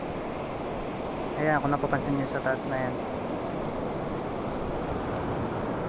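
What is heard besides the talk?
big ocean waves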